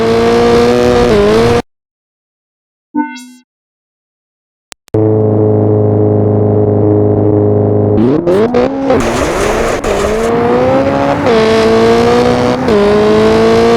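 A rally car engine from the racing game Richard Burns Rally, loud and close, droning at a steady pitch, cutting out briefly, then roaring back and revving up and down through gear changes.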